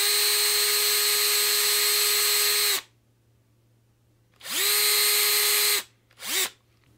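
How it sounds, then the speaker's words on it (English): A power drill bores a small, shallow hole into a guitar fretboard, with a loud steady whine that stops, then returns in a second burst and a brief final blip. "I hold the neck as straight as I can, and the drill as straight as I can, and I just go down about a mil into the fretboard"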